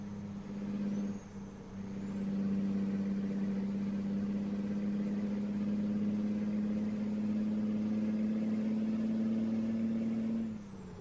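A big rig in American Truck Simulator rumbles along with a steady, droning engine hum and a high thin whine riding above it, holding evenly for about ten seconds after a brief dip near the start.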